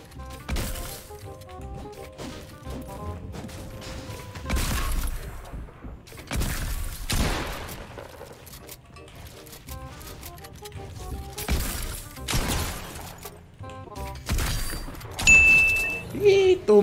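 A pickaxe strikes wood to gather building materials in the video game Fortnite: sharp, regular chopping impacts about every second and a half, with scattered game tones and chimes between the blows.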